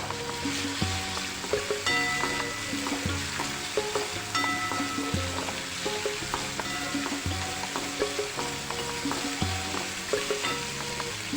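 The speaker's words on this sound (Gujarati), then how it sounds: "આદુ લસણ સતળાઈ જાય એટલે આપણે આ ઝીણા સમારેલા કાંદા એડ કરીશું" Ginger, garlic and finely chopped onions sauté in a hot pan for Manchurian, a steady loud sizzle with repeated stirring scrapes in a loose rhythm, no voices.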